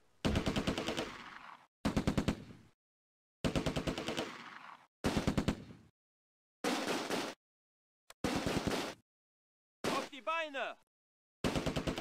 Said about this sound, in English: Kang on the machine gun targets the Granatwerfer